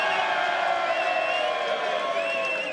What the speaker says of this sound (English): And give us a cheer for Michael.